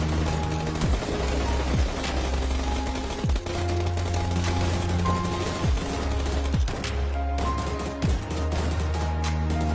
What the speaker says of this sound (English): S12K. This is how to actually use a shotgun.